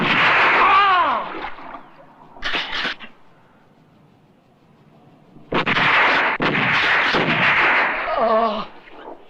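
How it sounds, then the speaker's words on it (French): Gunfire in a spaghetti western film: loud sharp shots and crackling bursts, with a sudden short burst, a quiet gap, then a dense run of blasts; a voice cries out near the start and end. "Tire pas, Yango!"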